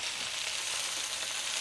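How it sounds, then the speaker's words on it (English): Tortilla frying in hot oil in a home kitchen, giving a steady, close, bright sizzle with crackling spatters that holds evenly throughout, no voices. "It's gonna sizzle."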